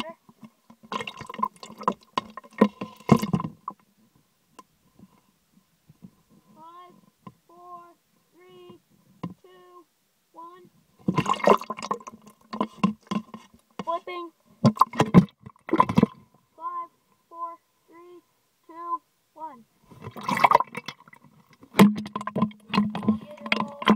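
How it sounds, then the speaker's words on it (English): A small Pelican 1050 hard plastic case is plunged into water and lifted out, with sloshing and dripping splashes in bursts between quiet gaps, and someone talking close by between the splashes. "Okay, dunking in the water."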